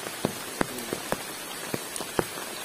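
Heavy rain falling on a tiered camping shelter during a thunderstorm, heard as a steady close hiss broken by scattered sharp drips and taps landing at irregular intervals.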